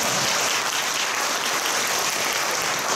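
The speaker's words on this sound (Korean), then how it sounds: "우리 박수 한번 해주십시오" A church congregation claps in dense, even applause that stays steady and fairly loud for the full three seconds, with no voices over it.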